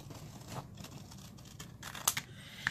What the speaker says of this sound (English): And I'm going to just cut this out.